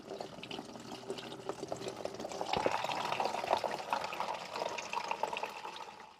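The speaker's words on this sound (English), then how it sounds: "So I might as well just drain the fluids out now" Coolant and oil draining from a Mk2 Ford Escort, a steady liquid trickle and splash into a container that grows fuller midway, with small clinks along the way and no talk.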